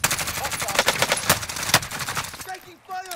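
Dense automatic gunfire from Call of Duty: Warzone, rapid overlapping bursts throughout, loud and close, with a short lull near the end where a voice briefly speaks.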